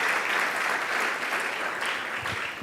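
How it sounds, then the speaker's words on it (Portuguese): A church congregation at an evening service claps together in a dense, even wash of applause that holds steady and fades slightly at the end. "Você pode aplaudir o Senhor pela leitura da palavra"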